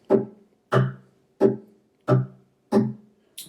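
A tongue drum built into a guitar's upper bout is struck six times in an even rhythm, the tones mellow and ringing with short decays, the last hit softer.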